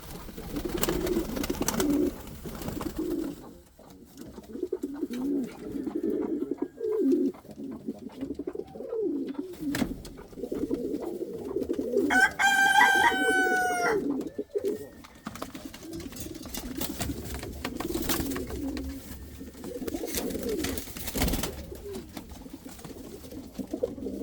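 Indian fantail pigeons coo steadily in low, rolling murmurs that overlap throughout, with a brief bright chirping bird call cutting in midway; no one speaks.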